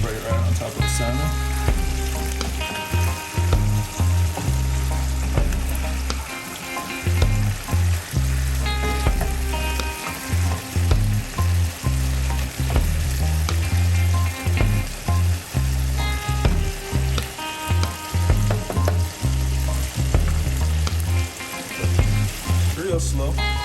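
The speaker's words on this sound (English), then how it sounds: "We're just gonna cover it and let it simmer." Honey-glazed salmon with sauce simmers in a pan, giving a loud, dense sizzle and bubbling that carries on for over twenty seconds, with a busy, rhythmic layer of other sound running beneath it.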